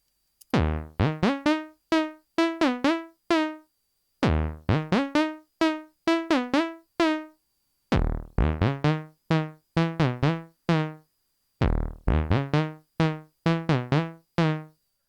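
A Vital synth preset recreating the riff of a pop song plays short, punchy plucked notes in quick rhythmic bursts, four phrases separated by brief gaps, dry and prominent.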